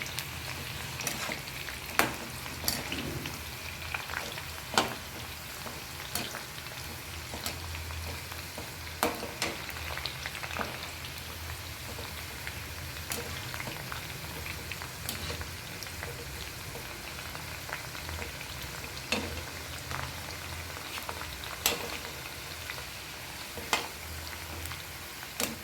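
Jackfruit chips deep frying in hot oil, a steady, close crackling sizzle with scattered sharp pops throughout, no voices.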